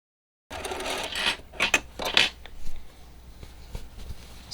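A sewing machine stitches fabric pockets for a picture frame sewing caddy, giving close, quiet bursts of mechanical clatter with small clicks and pauses between runs.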